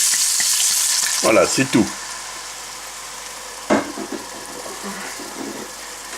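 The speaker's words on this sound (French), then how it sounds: "Maintenant, j'ajoute un peu de vin blanc." White wine poured into a pan of browned onions sets off a sharp burst of sizzling and bubbling, then a steady frying hiss with a brief spoon stir, while a voice speaks briefly.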